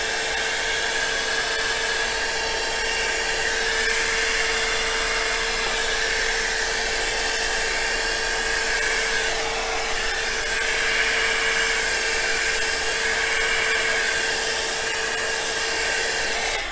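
A heat gun blowing hot air over an acrylic pour painting, a loud, constant whirring hum with a steady tonal whine, unbroken throughout.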